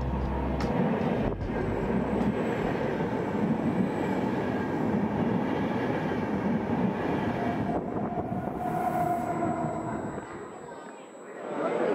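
A train carries passengers from Carpenedo station toward Venice, with a steady rumble of wheels and carriage noise heard from inside and a faint squeal near the end as it slows.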